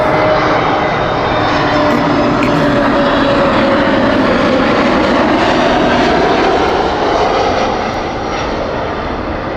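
British Airways airliner from Amsterdam passing very low near Heathrow, a loud sustained engine roar that fills the whole stretch and eases slightly toward the end.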